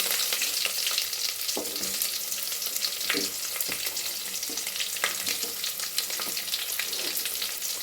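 Whole spices such as cloves, cardamom and cinnamon sizzle with onions in a pan of oil, a steady close frying hiss broken by scattered crackles and occasional scrapes from stirring.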